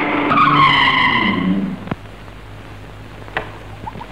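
A vehicle brakes hard, its tires squealing and skidding loudly for about a second and a half before it stops, followed by a few sharp knocks and a quieter background.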